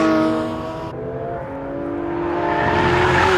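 A Porsche 911 GT3 RS race car accelerates hard on a track, its engine note loud and close, rising in pitch after a brief gear-change dip and then building steadily again.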